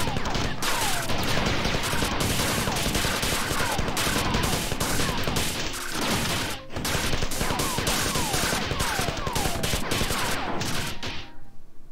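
Dense, continuous gunfire from the Bungie video game Marathon, loud and relentless for about eleven seconds, with overlapping shots and weapon effects filling the space before cutting off abruptly near the end.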